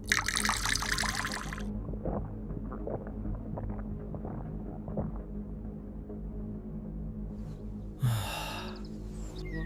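Water trickles and dribbles steadily into a kamandal, a traditional spouted water vessel, in a quiet close-up scene with soft splashing throughout and a brief breathy sound near the end.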